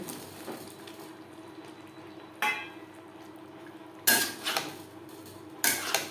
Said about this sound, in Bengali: মশলার সাথে টক দই নাড়াচাড়া করে নেওয়ার পর দিয়ে দেবো ভেজে রাখা পটল